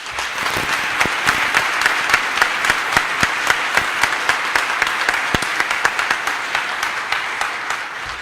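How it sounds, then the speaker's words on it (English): Sustained audience applause at a firefighter recruit class graduation ceremony, steady dense clapping with sharp individual claps standing out, filling the hall for about eight seconds. "Let's give them a round of applause."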